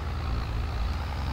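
A heavy farm vehicle drives steadily through Landwirtschafts Simulator 22, its deep, continuous engine rumble holding close and even with no breaks or voices.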